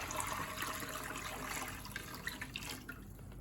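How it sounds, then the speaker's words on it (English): Running water splashes and swirls inside a slow cooker as it is washed out, a continuous close rush with small sloshes toward the end. "Giving the slow cooker a thorough wash out"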